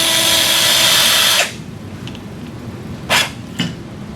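A power pin driver whirs steadily as it drives a guide pin into a Sawbones wrist model, a loud continuous drilling run of about 1.5 seconds that stops abruptly, followed by two brief quieter bursts.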